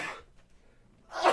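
A single allergy sneeze: a sharp breathy burst at the start, a short quiet pause, then a second loud burst as another sneeze begins, close to the microphone.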